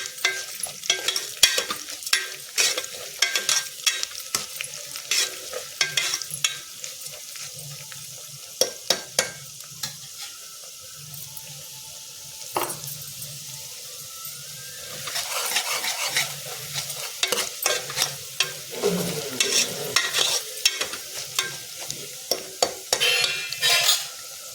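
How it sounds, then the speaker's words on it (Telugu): Moong dal frying in oil with onion and green chili, stirred steadily with a spoon: a continuous soft sizzle broken by frequent scraping strokes against the pan, close and fairly quiet, with no voices. "పప్పు మంచిగా నూనెలో కొంచెం దూర కాలింది."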